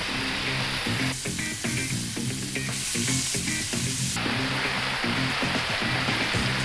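A salmon fillet frying in a pan, giving a dense, steady sizzle and crackle close by that swells and eases in spots over several seconds, with no talking.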